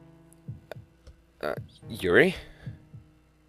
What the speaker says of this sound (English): Those are heartbeats.